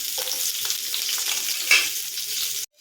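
Small shallots and garlic cloves frying in oil for onion chutney: a loud, close, continuous sizzle with crackling and stirring scrapes, one brief sharper clink, cutting off abruptly at the end.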